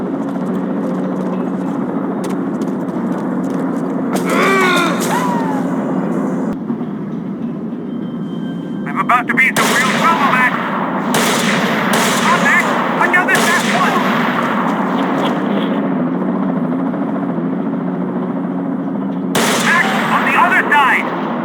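Gunfire in the Max Payne 3 video game, bursts of sharp loud shots in clusters over a rumbling low background drone, with gaps between volleys and heavier barrages near the middle and end.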